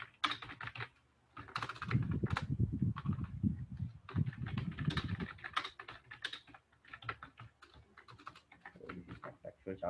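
Typing on a computer keyboard to write a code file, bursts of quick close key clicks with short pauses, a dense flurry in the middle, no talking.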